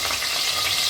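Mustard oil heating in a kadai gives a steady, close hiss of sizzling and frying, brief and continuous with no talk.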